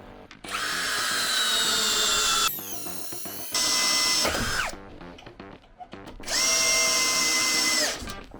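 Grand DA 20-2 BL cordless brushless screwdriver driving a long 6x300 screw: three strong whirring runs of a few seconds each, separated by short pauses, loud and close.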